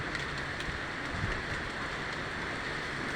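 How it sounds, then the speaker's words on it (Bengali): Steady rain falling during a hot-weather break, a dense continuous broadband hiss with no voices, close and even throughout. "বৃষ্টি শুরু হয়েছে"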